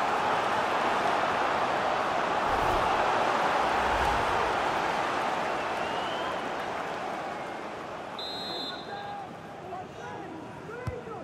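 A stadium crowd roars steadily in FIFA 22 at a Newcastle United versus Crystal Palace Premier League match, a thick continuous wash of cheering that eases slightly toward the end, with a commentator talking over it.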